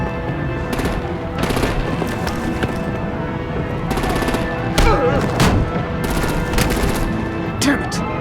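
Rapid machine-gun bursts and heavy artillery fire in the Batman: The Enemy Within video game, loud and continuous, with dense crackling volleys and sharp booms throughout, voices faintly in the mix.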